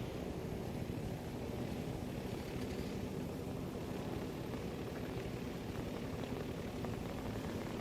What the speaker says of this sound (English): There's a heli right there.